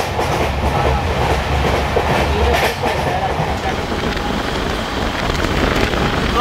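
Kolkata–Sairang train 13125 rumbles along steadily from inside a carriage, a continuous loud roar with faint rhythmic rail clatter and no break.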